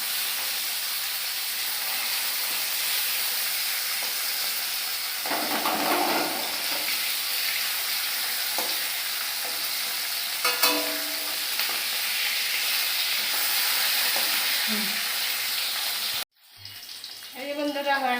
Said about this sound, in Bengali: হয়ে গেছে মাছটা ভাজা।